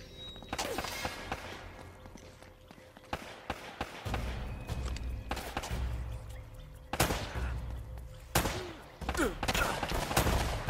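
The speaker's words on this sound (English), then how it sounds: "Why am I shooting these guys" Rapid gunfire in the action-adventure game Uncharted during a firefight, with repeated sharp shots and bursts over about ten seconds, loud and close, interspersed with thuds and footsteps.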